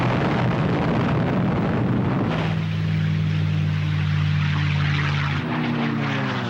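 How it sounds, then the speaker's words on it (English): Allied bomber aircraft drone loudly overhead, a heavy, steady propeller roar that holds throughout. Rumbling bomb blasts mix into the din, with no voices heard. "The Allied bombers hit bridges and roads leading to the German front in France with almost surgical precision."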